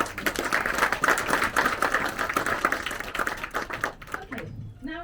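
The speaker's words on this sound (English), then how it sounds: "I think that deserves another round of applause." Audience at a hospital fundraising event gives another round of applause, with brisk, close clapping of moderate loudness that thins out near the end as a voice begins.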